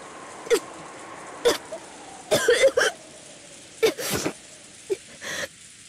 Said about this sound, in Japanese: 突然発作が来ると咳が止まらなくなるんだよ。